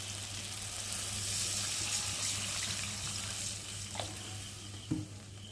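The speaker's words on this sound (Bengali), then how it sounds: "আর এখন আমি পরিমাণ মতো জল দিয়ে দেবো।" Water poured into a pan of fried masala that has been cooking until the oil separates, giving a steady hiss and sizzle with a faint tap-like splash near the end, with no speech.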